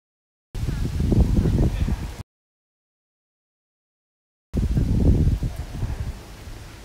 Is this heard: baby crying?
no